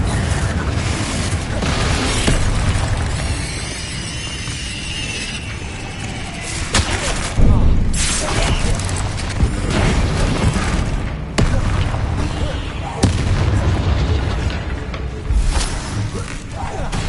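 Confringo fire blast spells and Bombarda blasts detonating in Hogwarts Legacy combat, a run of booming explosions with sharp bursts around the middle and later, thick low rumble throughout, with a voice talking over them.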